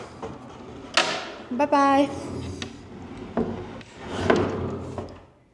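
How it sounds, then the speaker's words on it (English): A pocket door in a living room slides along its track and knocks shut with wooden bumps and rubbing, loud and close, as a voice speaks briefly partway through. "this living room actually has a pocket door"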